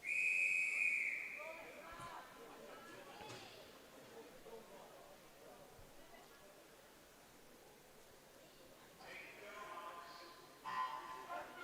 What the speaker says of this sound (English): Referee's whistle goes,